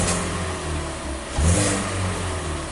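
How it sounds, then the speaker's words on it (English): A 2017 Kia Sportage engine idles steadily nearby, then revs up in a single quick rise and falls back to a smooth idle. "so you see I got the vehicle running."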